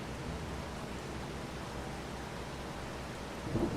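Steady rain in the video game Farming Simulator 25, a constant broadband hiss with a low rumble, swelling slightly near the end.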